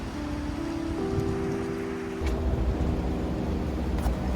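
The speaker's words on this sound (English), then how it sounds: "we're caught in the rain." Rain falls outdoors at a crowded KCON 2023 event, a steady broadband hiss of rain close by that thickens partway through and runs the whole time with no talk.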